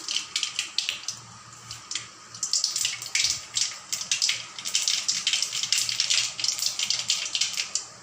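Mustard seeds and chana dal crackle and sizzle in hot oil, a dense, steady spitting and popping that runs the whole time, close and fairly loud with no talking.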